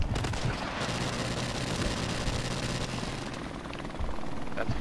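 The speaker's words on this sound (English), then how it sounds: "That's our helicopter?" A helicopter in the Call of Duty video game gives off a continuous loud rotor chop and broadband roar that fills the whole clip, with faint bursts of gunfire mixed in.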